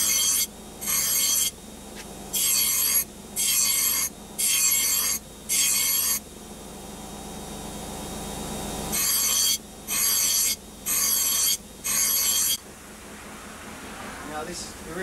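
A grinder works the edge of a forged, tempered knife blade in short, even passes: six quick strokes, a pause, then four more, over a steady low background hum.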